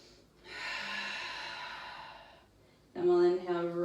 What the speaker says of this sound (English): One more long breath.